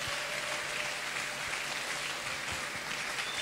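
An audience applauds steadily for Papa Franck, a doctor being honoured at a gathering, with dense, sustained clapping that keeps an even level throughout.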